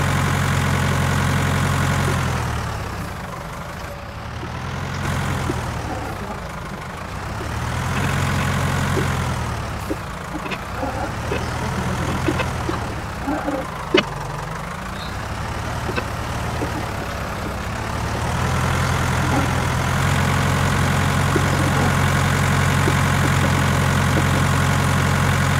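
A tractor engine in Farming Simulator 19 drones steadily throughout while pulling a disc harrow over stubble, its pitch rising and falling in slow repeating surges as it labors, with no talking.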